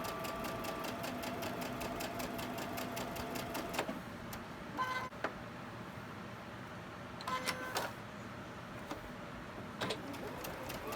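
A home sewing machine stitches across a fabric quilt square for a Halloween mystery quilt, running in a quiet, rapid, rhythmic whir. Short stops and restarts break up the runs.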